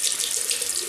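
A safety razor rinsed under a running bathroom tap, a steady close hiss and splash of flowing water with no voices.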